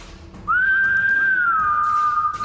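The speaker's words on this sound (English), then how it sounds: "and I whistle." A single person whistles one sustained, clear note that rises slightly and then settles lower, close and loud, after a quiet lead-in with faint room noise.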